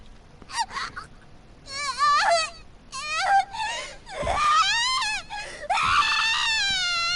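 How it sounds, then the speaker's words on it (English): A woman's screams of agony in an audio drama, a series of drawn-out, wavering shrieks and wails that rise and fall in several bursts, loud and close, with no speech. "Her vision runs red as waves of unbearable agony trigger unconscious screams of primal, nearly animalistic torment."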